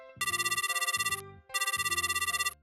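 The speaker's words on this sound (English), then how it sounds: "it all began with a single phone call" A phone ringtone for an incoming call plays as two loud, clear bursts of a bright electronic melody, each about a second long, separated by a short pause with no voices.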